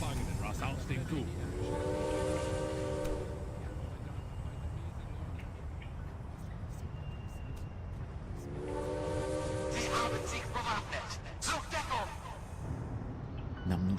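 A prisoner train in the Darkest of Days video game comes to a halt, its horn or whistle sounding twice in harmonic blasts over a steady rumbling rail roar, with German-language voices speaking amid the din.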